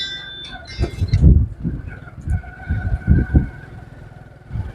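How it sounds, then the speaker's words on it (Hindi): A motorcycle carries riders through a wild, wooded area. The engine surges and drops in uneven bursts as it moves along, close and fairly loud, with no clear talk. "ये बाइक पर बैठकर हम सफ़र कर रहे हैं, आपको साथ में दिखा रहे हैं।"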